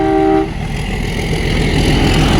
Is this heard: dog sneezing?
no